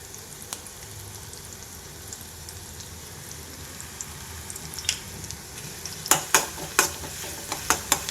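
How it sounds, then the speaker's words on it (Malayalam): Cashews and raisins dropped into a pan and frying, likely in ghee, for a Ramadan thari kanji; a soft sizzle runs throughout, then a burst of crisp popping and crackling near the end, close and without talk. "അതിന് ശേഷം നമുക്ക് അണ്ടിപ്പരിപ്പ് മുന്തിരി ഇട്ട് കൊടുക്കാം"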